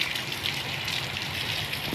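Strong Typhoon Goring wind roars in a dense, steady hiss close to the microphone, mixed with a watery rushing wash and no clear voices.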